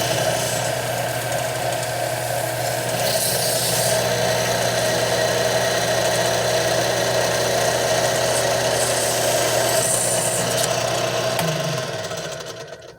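Steady high-pitched whirr of a power tool with a Velcro-backed disc polishing an LS engine cylinder head's combustion chamber, running continuously before winding down near the end.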